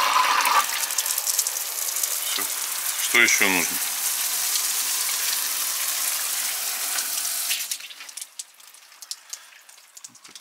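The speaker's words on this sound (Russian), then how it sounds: "Ополоснуться, водичку включили, душик пролился." Water pours in a steady hissing rush from an outdoor summer shower at a yurt bathhouse, then cuts off near the end, leaving quieter drips and knocks; a voice speaks briefly partway through.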